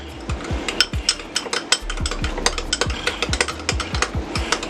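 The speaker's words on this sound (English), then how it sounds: "We're just gonna mix that up a little bit." A spoon stirs sriracha into Thousand Island sauce in a bowl, giving a quick run of repeated clinking scrapes against the dish, close and steady with no talking.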